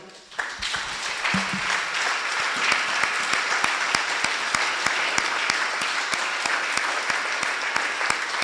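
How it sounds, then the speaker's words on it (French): A church congregation at a worship conference applauds in acclaim, a dense, loud, sustained wash of many hands clapping, with rhythmic beats emerging through it over several seconds. "Une offrande d'acclamation."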